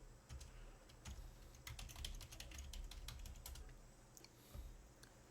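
Keystrokes on a computer keyboard during a hacking lab session, quiet clicking taps arriving in irregular bursts with short pauses, close and soft, with no one talking.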